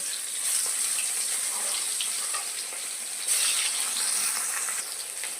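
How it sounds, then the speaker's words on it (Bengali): Rohu fish pieces fry in hot mustard oil in a wok, giving a continuous bright hiss and crackle that swells louder midway, close and steady with no talking. "তেলটা গরম হয়ে গেলে এবার এর ভেতরে একে একে মাছগুলোকে দিয়ে ভাজা করে নেব।"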